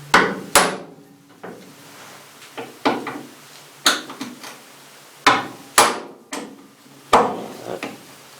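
A hammer strikes a Vessel manual impact driver set on a stubborn screw, giving sharp, close metallic blows, single and paired, spaced unevenly with quiet gaps between them.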